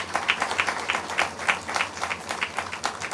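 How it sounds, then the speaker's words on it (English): A small group claps for students at a school post office opening, a brisk, fairly close patter of hands with uneven rhythmic peaks for about three seconds. "a round of applause to my students for the amazing job they have done"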